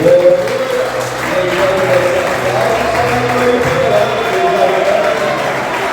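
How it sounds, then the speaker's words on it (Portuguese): Congregation applauding in a church service, a broad wash of clapping that holds steady and fairly loud for several seconds, with voices and low background tones underneath. "Você pode aplaudir ao Senhor"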